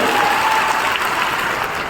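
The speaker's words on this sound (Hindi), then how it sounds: "एक बार मेरे कहने पर फिर से जोरदार ताली होनी चाहिए" Loud, sustained applause from a crowd at a political rally in Bihar, a dense steady wash of clapping that fills the whole moment without a break.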